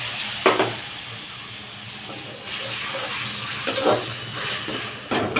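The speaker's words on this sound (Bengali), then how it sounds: "এবার হচ্ছে মশলা কড়াটা ছেড়ে দেবো" Spices and ginger paste sizzle and crackle in a hot wok, a steady close frying hiss broken by several louder bursts of stirring and splatter.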